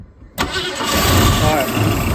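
A 1966 Ford Mustang barn find in an airport hangar cranks and fires at once, settling into a loud, close, steady idle, with people talking under the engine.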